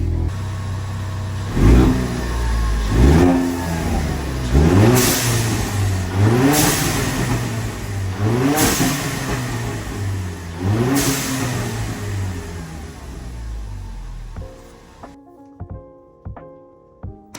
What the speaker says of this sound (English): listen to the blow-off valve on this thing